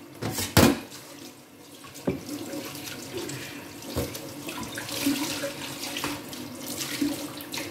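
Kitchen tap water runs steadily into a sink while dishes are washed, with occasional clunks and splashes of dishes being handled, close by and with no talking.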